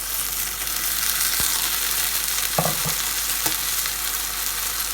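Steak frying in oil in a pan, giving a steady close sizzle with a few brief clinks and scrapes of utensils against the pan.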